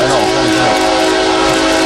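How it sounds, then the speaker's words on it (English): A westbound oil train near Tehachapi blasts its horn approaching a crossing: a loud, sustained multi-note chord held throughout, close by, over a low rumble of the moving train. "here comes a Westbound oil train coming our way"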